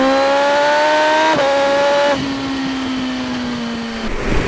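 A BMW M 1000 R motorcycle engine screams at high revs, a sustained high-pitched whine climbing through gear changes, loud and close, with a brief dip before easing off at the end.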